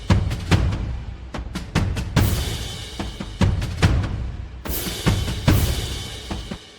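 A trap-beat marching band loop, snare-heavy drum hits in a steady rhythm, with crash cymbal accents from the BBC Symphony Orchestra percussion section cutting in at the start of phrases; loud, dry and close, no voices.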